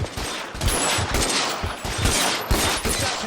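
Rapid gunfire in the crime video game L.A. Noire, loud bursts of shots cracking in quick succession with a few heavier impacts, continuous across the whole stretch with no talk over it.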